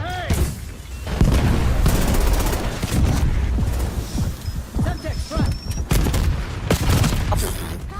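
Rapid gunfire and booming blasts from a first-person shooter match in a spawn area, with bursts and scattered shots crackling steadily over dense background battle noise for several seconds.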